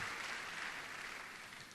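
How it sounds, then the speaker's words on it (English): Applause from a church congregation, a steady wash of many hands clapping at moderate volume, slowly fading over a couple of seconds with no voices. "You can clap for him."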